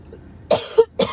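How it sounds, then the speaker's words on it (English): Two sharp, close coughs a half second apart, with a brief throat sound between them, alone against a quiet background. "And I'm doing a lot of coughing,"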